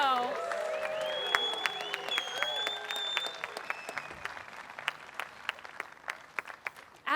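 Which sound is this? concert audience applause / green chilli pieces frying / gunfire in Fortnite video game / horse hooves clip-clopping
concert audience applause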